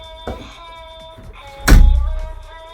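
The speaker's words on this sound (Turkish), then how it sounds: "kapıyı aç" A door opens indoors with a solid thunk partway through, amid the playthings of two children at play, its knock standing loud above faint background sounds and tonal hum.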